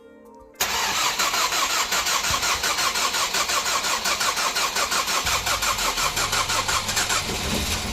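A Ford Mondeo with a burnt valve cranks briefly and then fires up, settling into a loud, rough idle with a steady pulsing rhythm close by.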